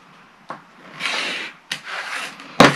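Fabric quilt block edges being trimmed for a scrappy disappearing rail fence block, heard as brief close scraping and cutting strokes, with two longer rubbing passes between short sharp ticks.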